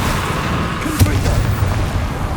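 Confringo spell blast in Hogwarts Legacy: a single dull boom lands over a steady rumbling game soundscape, with no talking.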